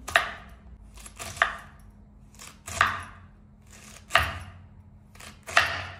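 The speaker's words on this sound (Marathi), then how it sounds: "पहिले गोबी कापून घेऊया आपण। गोबी बारीक अशी करायची।" A knife finely chops cabbage on a cutting board at home, landing crisp, sharp strikes about every second, some in quick double taps, close and clear with no talking.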